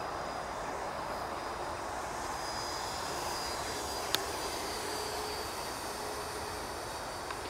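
An Arrows Hobby BAE Hawk radio-controlled model jet flies overhead, giving a steady, fairly distant whooshing ducted-fan hum that holds an even level throughout, with a faint click partway through.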